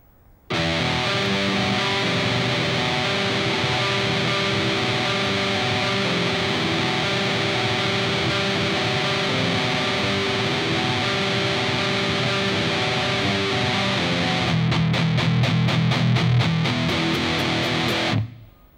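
Heavily distorted electric guitar riff, a loud sustained wall of chords that ends in a burst of fast rhythmic chopped picking before stopping abruptly.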